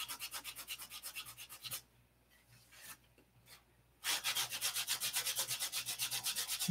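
Sandpaper is rubbed back and forth over a painted surface to fix paint flaws, making rhythmic close scratchy strokes that pause for a couple of seconds, then resume at a steady pace.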